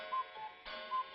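A cuckoo clock ticks steadily indoors, a soft, regular tick-tock repeating at an even pace with faint bell-like overtones.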